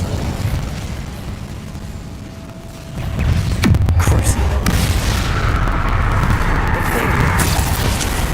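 Incendio and Crucio spells cast in Hogwarts Legacy burst out in a heavy boom about midway, followed by a loud, sustained crackling roar, with voices over the game sound.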